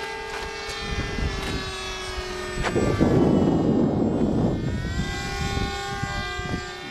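A radio-controlled model airplane with flaps lowered drones steadily overhead at slow speed while lining up to land, its propeller whine rising and falling in pitch as it passes. A voice speaks briefly.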